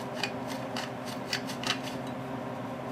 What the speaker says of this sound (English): Let's deburr these holes here.